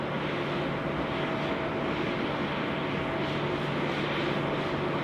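A UPS Boeing 747 taxiing at Sydney Airport, a steady, continuous jet engine roar with a constant low hum and whine, fairly loud and unbroken, with no voices.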